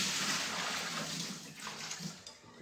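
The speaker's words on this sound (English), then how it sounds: "I'm gonna rinse these out. These are kelp noodles, minerals." Running tap water splashing steadily into a sink while kelp noodles are rinsed beneath it, a close, continuous rushing wash that eases slightly toward the end, with no talking.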